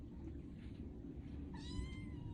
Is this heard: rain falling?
no